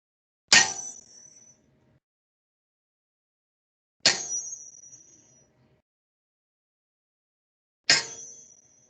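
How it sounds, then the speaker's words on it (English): Star-shaped chime struck three times at even intervals, each a bright metallic ring that fades over about a second into silence. "This is a star, and when we hit it on something, it makes a chime."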